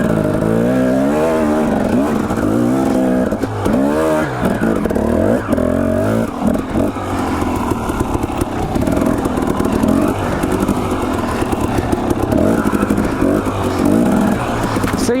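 A dirt bike rumbles along Idaho trails, its engine loud and close, revving up and easing off through uneven throttle changes, with a voice heard faintly under the engine at times.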